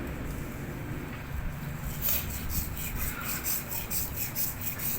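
A pair of scissors is sharpened by hand. A close, soft grinding rub plays at first, then turns into regular back-and-forth scraping strokes for the rest of the clip, with no talking.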